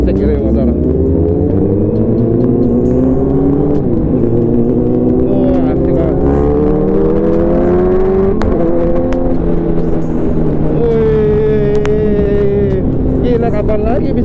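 A motorcycle engine revs and shifts while riding on a group Sunday ride, rising and falling in pitch through gear changes, loud and close, with someone talking over it.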